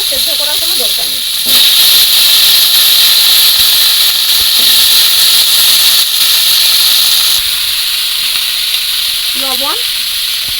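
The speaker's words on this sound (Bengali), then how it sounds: "আলু আর বাঁশকোড়ল একসঙ্গেই তেলের মধ্যে দিয়ে ভালো করে ভেজে নেব।" Potatoes and bamboo shoots fry together in hot oil, a steady broad sizzle and hiss running throughout, with faint voice fragments at the start and end.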